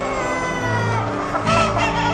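A rooster crows close by, a loud, harmonic call lasting about two seconds that rises into a strained final note.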